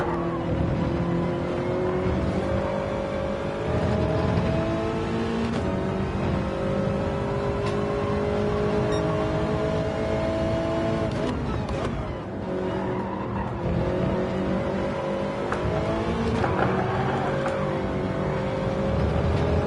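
Race car engine in the PSR sim racing game, steady and loud with sustained harmonic revving and shifting pitch while drifting, running continuously throughout with no speech.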